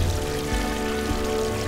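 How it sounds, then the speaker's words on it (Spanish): Water rising in the video game Unravel gives a steady rushing, pouring wash, loud and continuous with low rumbling underneath. "Esperando que suba el nivel del agua."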